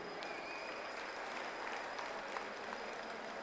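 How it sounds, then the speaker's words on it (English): Audience applause at a secondary school's annual parents' day, steady continuous clapping from a crowd heard at a moderate distance, with a faint tone running underneath. "so keep applauding"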